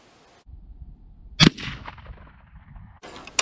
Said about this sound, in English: let's just take a couple more shots and just see how consistent she's going to be